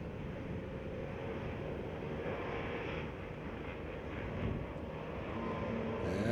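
Motocross bikes revving together at the starting gate of a Schoolboy 2 final at Mammoth, a dense, steady engine roar held at full volume for several seconds, swelling slightly near the end, with no talk.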